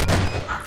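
A short, loud burst of gunfire in Garry's Mod Prop Hunt, a quick rattling fusillade that fades within a fraction of a second.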